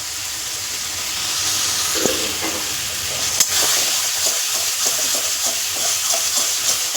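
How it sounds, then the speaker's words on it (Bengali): Taro and prawns fry in hot oil in a kadai with a steady, close sizzle and hiss, plus a few sharp clinks of stirring, no voices over it. "যেইটুকুনি জল আছে কড়াতেই মরে যাবে তেলে বুঝবুজ করবে"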